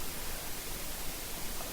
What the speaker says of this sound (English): I'm getting a lot of noise for some reason from my CPU